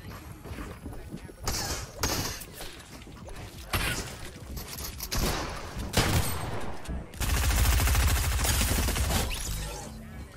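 Fortnite gunfire crackles in bursts of rapid shots and heavy single reports, separated by short mechanical clicks and reloading sounds, with a player talking intermittently over the fight.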